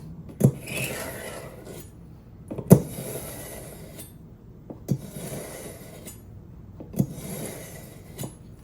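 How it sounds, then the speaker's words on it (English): A kitchen knife drawn through a handheld knife sharpener, giving repeated rasping scrapes about every two seconds, each starting with a sharp click, close and moderately loud. "I feel like this kind of knife sharpener sharpens this type of knife better"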